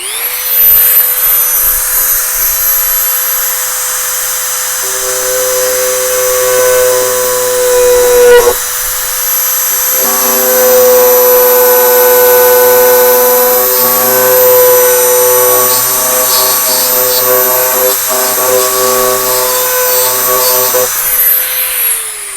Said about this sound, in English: I'm going to Dremel this. It's going to be loud.